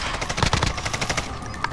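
Rapid automatic gunfire in Call of Duty Warzone, dense bursts of shots crackling close and loud for under two seconds with no talk.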